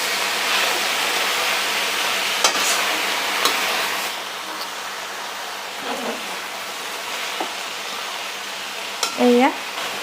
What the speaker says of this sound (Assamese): এতিয়া মই এইখিনি ধুনীয়াকৈ ভাজি ল'ম